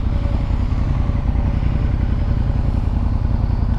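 A Ducati Diavel motorcycle pulls away with a loud, steady, low engine rumble that pulses throughout, close by and with no voices over it.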